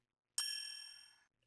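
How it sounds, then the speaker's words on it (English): A single bright bell strike from a dark orchestral trap beat rings out alone, its metallic shimmer decaying steadily for about a second before cutting off. "I added a little bell that plays with some of the snares"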